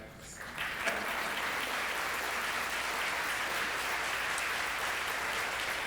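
Sustained audience applause at an opening ceremony for a national conference on ending homelessness, welcoming the flag carriers. The clapping is steady and dense, heard alone with no talk over it.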